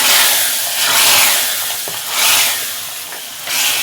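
Tempering (vaghar) sizzling in hot oil for kadhi, a loud steady hiss and crackle that swells and eases, close by with no talk.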